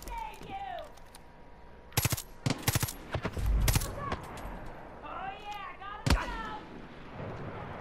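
Bursts of rapid automatic gunfire and single loud shots ring out during an outpost battle in the video game Far Cry 5, arriving in clustered volleys over background game ambience with chirping birds, and no talking.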